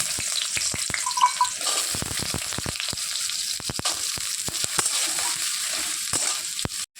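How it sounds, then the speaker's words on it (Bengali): Potatoes fry in hot oil in a home kitchen, giving a steady crackling sizzle broken by sharp pops and the clatter of stirring, close and continuous. "এখন আমি আলুটা ভেজে নেব।"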